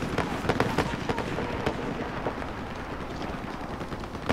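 Rapid gunfire in the Battlefield 4 video game, dense bursts of sharp cracks and booms crowding together in a loud, chaotic firefight with no pause.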